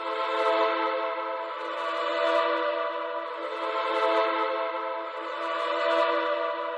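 Two Virgin Choir plugin parts played together in FL Studio, the choir set to the A articulation, forming a sustained, steady, dense choral pad that swells gently throughout, with no talking.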